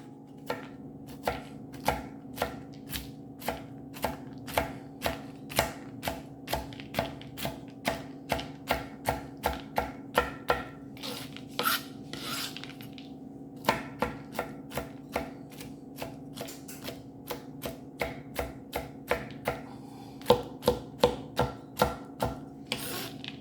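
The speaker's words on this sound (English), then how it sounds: "So I'm going to start chopping those next." Steady knife chops on a cutting board, a long run of sharp, evenly spaced taps with a couple of short pauses, close and clear with no talking.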